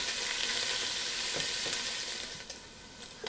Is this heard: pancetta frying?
yes